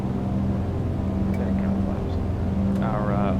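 Piston engines of a Lockheed L-049 Constellation in the A2A flight simulator, throttled up for takeoff, give a steady, loud, continuous drone with a low hum beneath. Voices talk over it.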